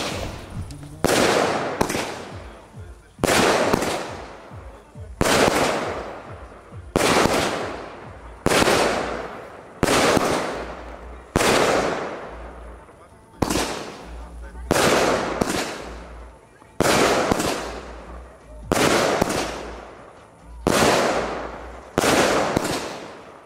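A run of loud, sharp fireworks bursts from a cake-type firework battery in Poland, each explosion cracking out in a steady rhythm of roughly one per second with a short decaying rumble, and no voices in between.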